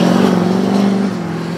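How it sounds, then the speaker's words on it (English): Car engine revving hard close by outdoors, a loud, steady growl that holds its pitch and then eases slightly toward the end, with no talk over it. "There's always some guy that has to gas it out there, right?"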